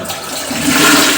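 A toilet flush tank being flushed in a bathroom, a loud rushing gush of water that swells over about a second, with no voices.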